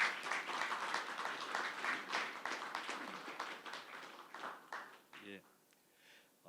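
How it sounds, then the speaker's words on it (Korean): An audience at an academic conference gives a round of dense clapping that tapers off, followed by a speaking voice over the last few scattered claps. "큰 박수 부탁드립니다"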